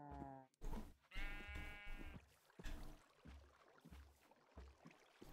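Minecraft sheep bleat in quick succession at the start, loud and close, followed by steady in-game activity with rhythmic low thumps and no talking.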